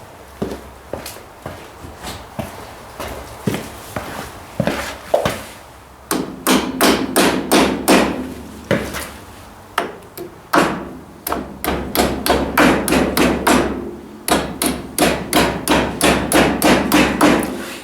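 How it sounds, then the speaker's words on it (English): A small hammer repeatedly taps a wheel bearing into a Ford 800 tractor hub. Sharp metallic strikes come close and loud, first scattered, then in quick steady runs of blows. "Might have to get a little hammer."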